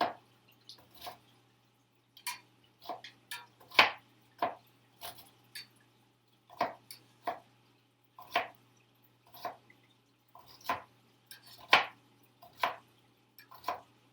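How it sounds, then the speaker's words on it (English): A knife chops food on a board in a kitchen, sharp, separate thuds coming in irregular bursts, some quick pairs and some spaced out, close and clear over a faint steady hum, with no talking. "So much chopping."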